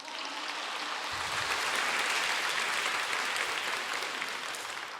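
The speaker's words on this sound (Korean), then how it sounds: "멋있으면 박수 한번 주십시오." A church congregation bursts into loud, sustained applause during a special Sunday worship service, the clapping dense and steady throughout with no talk over it.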